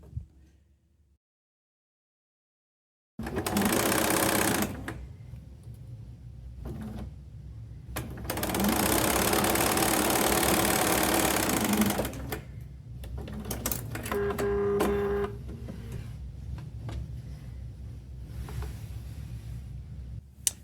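A sewing machine stitching quilt pieces, running in loud mechanical bursts of whirring stitches. Brief pauses separate the runs, and clicks of handling the fabric come in between, close and without talk.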